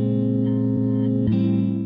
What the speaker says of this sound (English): Hear all that stuttering.